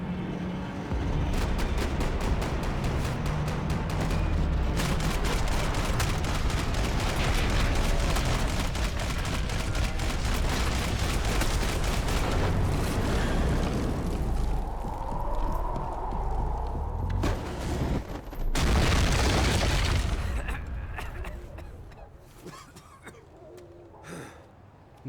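Sustained gunfire from a shootout in the video game Max Payne 3, loud dense bursts filling most of the stretch with a brief lull, then another heavy volley before fading to scattered quieter sounds.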